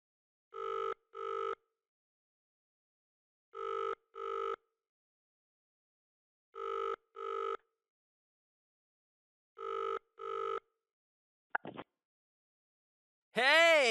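A phone on speakerphone rings in repeated double bursts four times, then a brief click and a rising electronic tone as the call connects, heard alone without talk.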